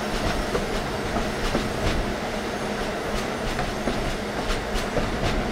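An eight-car special holiday passenger train rolls steadily along the rails, with a continuous loud rumble and rhythmic clickety-clack of wheels over rail joints, plus faint squeals, running alone without talk.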